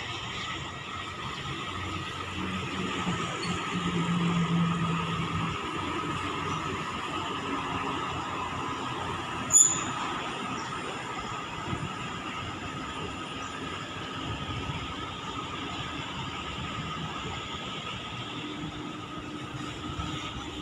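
A JRG sleeper bus on the Medan–Pekanbaru highway passing by with a broad, steady roar that swells and fades, plus a brief sharp knock in the middle; no talking.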